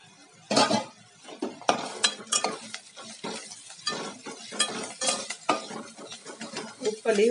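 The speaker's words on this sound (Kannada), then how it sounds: "ಉಪ್ಪಲ್ಲಿ 1-2 ನಿಮಿಷ ಫ್ರೈ ಆಗಿದೆ ಈರುಳ್ಳಿ ಎಲ್ಲ." Onions and curry leaves fry in oil in a pan over a low flame, with repeated close scraping and stirring clatter from a utensil over a steady sizzle, and no voices.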